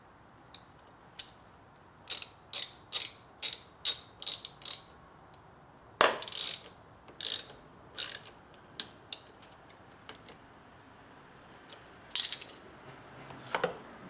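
Spark plug connector and coil being refitted and bolted down on a Ford Focus engine, heard as a run of sharp metallic clicks and ratcheting ticks in quick bursts, close and fairly quiet, with no talking.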